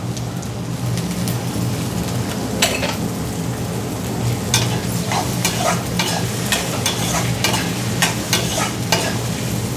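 Green peas fried in a pan with spices for a samosa filling: a loud, dense sizzle crackles steadily throughout, with spoon scrapes and light taps stirring them, close up and without talk.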